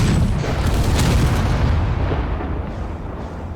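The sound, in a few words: weapons firing and explosions in Space Engineers video game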